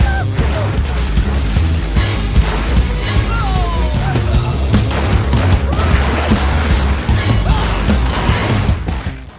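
Rapid bursts of gunfire and crashing impacts in an action scene from the 2007 Telugu film Chirutha, loud and continuous under a heavy music score with booming low end, no clear talk.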